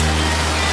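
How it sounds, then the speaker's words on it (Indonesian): Steady broadband hiss of heavy rain pouring down during a flood at the entrance road to a village, a dense continuous wash with a low rumble beneath, no voices. "diharap hujan akan berhenti"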